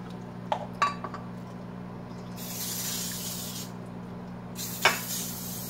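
Cooking spray hisses into square baking pans in two short bursts, set between light clinks of metal pans over a low steady hum.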